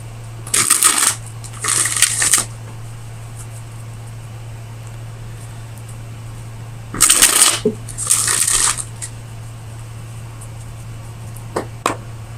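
Tarot deck shuffled by hand in two pairs of short riffling bursts, close and crisp over a steady low hum, with quiet between the bursts.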